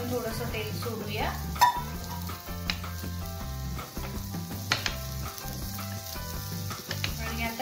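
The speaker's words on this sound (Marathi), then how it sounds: "आणि आता याला दोन्ही साईडने छान ब्राऊन खरपूस भाजून घेऊया आपण." Rava-coated surmai fish slices shallow fry in oil in a pan on medium heat, a soft close crackling sizzle with occasional spatula taps and pops, and a voice speaking lightly underneath.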